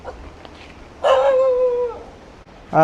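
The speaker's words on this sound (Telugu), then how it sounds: "ఏంటి కుక్క అరుస్తుంది." A single drawn-out dog howl or whining bark in a Sri Lankan jungle area rises suddenly and holds for about a second, followed by the start of another cry.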